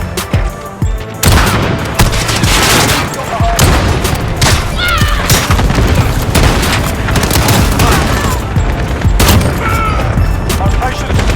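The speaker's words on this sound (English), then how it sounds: "cluster strike inbound." Cluster strike explosions in a video game: a loud, dense barrage of overlapping blasts and gunfire, nearly continuous for several seconds, with voices and game radio chatter mixed in.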